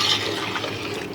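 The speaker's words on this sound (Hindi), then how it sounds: "अभी 1 गिलास इसमें और डाल देंगे ताकि ये ऊपर तक पानी आ जाएगा।" A glass of water pours into a pot of rice for chicken pulao, a brief close splashing gush of liquid.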